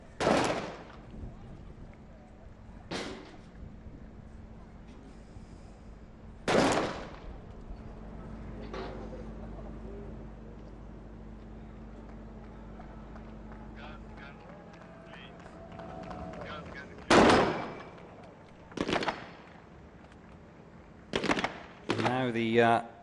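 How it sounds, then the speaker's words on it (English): Sharp sniper rifle shots ring out at a SWAT challenge shooting competition, about half a dozen loud cracks spaced several seconds apart with a quick cluster near the end, over a steady low hum and faint background chatter. "the first shot is a miss for the Abu Dhabi Police C team sniper"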